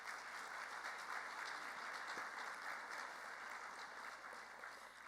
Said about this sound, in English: DeWeese another round of applause,